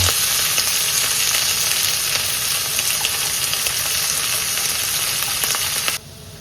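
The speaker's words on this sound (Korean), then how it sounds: "찌질거리는 소리. 그 맛있는 소리잖아." Seafood and noodles sizzle loudly in a hot pan while being stir-fried for a seafood jjamppong noodle dish, a dense steady frying hiss close up that cuts off abruptly near the end, with no talk.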